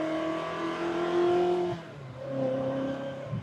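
A Ferrari 360 Modena accelerates hard with a rising engine howl, drops in pitch during a slow, drawn-out gear change, then pulls again in the next gear, heard from inside the car.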